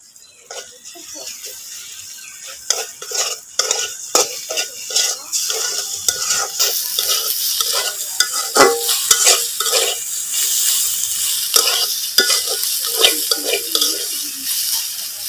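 Bean curry (shim boti) with garlic paste is stirred in a sizzling pan in a village kitchen, with a steady loud frying hiss and repeated scraping strokes of a utensil close by.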